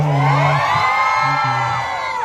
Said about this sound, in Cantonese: 大家可唔可以一齊心俾啲歡呼聲啊？